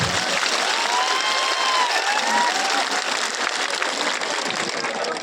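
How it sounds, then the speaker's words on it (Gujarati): A crowd at a public event applauds with raised hands, producing dense, sustained clapping that stays loud and even throughout. "પહેલા બે હાથ ઊંચા કરી તાળીઓથી જિગ્નેશભાઈને વધાવો"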